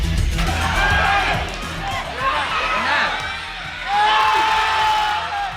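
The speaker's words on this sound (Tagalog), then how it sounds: "Kasabay ng hiyawan ng crowd" Crowd shouting and cheering at an NCAA Season 100 women's beach volleyball match, a loud, continuous roar of voices with rising whoops that swell again near the end.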